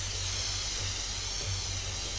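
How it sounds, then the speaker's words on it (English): A spray can sprays paint in the video game inFAMOUS Second Son, giving a steady, close, unbroken hiss with a low hum beneath it and no talk. "spray painting"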